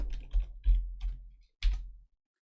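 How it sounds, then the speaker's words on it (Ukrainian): Several quick keystrokes on a computer keyboard as the word print is typed, a short burst of clicks, a pause, then a final key press, close and fairly quiet. "Знову введемо слово print."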